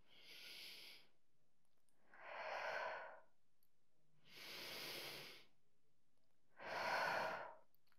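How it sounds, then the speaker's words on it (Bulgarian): Slow diaphragmatic breathing exercise for diastasis: four deep, airy breaths alternating inhale and exhale, each lasting about a second with pauses between, close and soft with no talking. "Вдишваме, издишваме и издишвайки стягаме корема."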